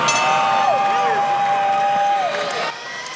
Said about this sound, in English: the crowd here in San Antonio loving it